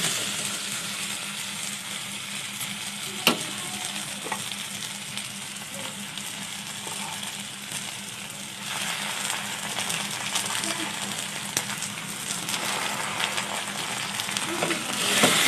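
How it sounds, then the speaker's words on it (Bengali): Steady sizzle of spices frying in a pan for egg tadka fills the background, a continuous hiss with occasional faint clinks and stirring sounds, moderately close. "মশলাটা একটু ভাজা ভাজা হয়ে গেলে দিয়ে দিব।"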